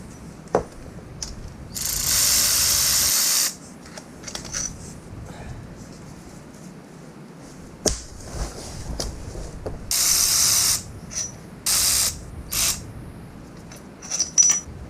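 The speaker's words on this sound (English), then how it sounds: "we're going to move this sub-assembly right here with an E14 Torx" A ratchet fitted with an E14 Torx socket works on the differential sub-assembly bolts of a Toyota Tacoma, making clicks and short, loud, buzzing bursts of ratcheting separated by quieter pauses, with occasional metallic clinks close by.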